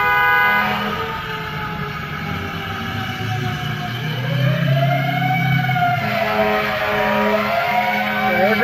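A fire truck siren wails near a car fire in Arcadia, sweeping up and down in pitch over a steady rumble of traffic and engine noise, with occasional honking.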